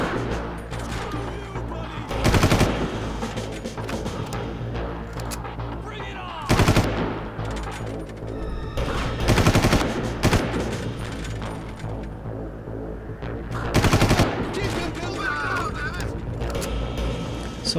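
Gunfire in the video game Far Cry, a firefight on a carrier: loud bursts of rapid automatic fire come in several clusters over a constant dense background of game noise and engine rumble.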